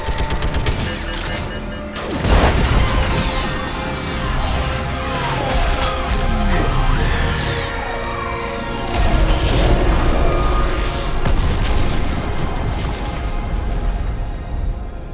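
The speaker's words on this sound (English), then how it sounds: "I need an orbital strike." An orbital strike in the sci-fi shooter game Mass Effect 3 unleashes a barrage of loud booms and crashes over rapid gunfire, with sharp blasts bursting repeatedly across a dense battle din.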